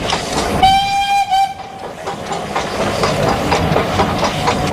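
A Nilgiri Mountain Railway train from Mettupalayam to Ooty sounds a long, loud whistle, then its wagons rumble and clatter along the track in a steady rhythm.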